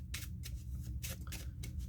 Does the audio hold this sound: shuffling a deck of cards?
yes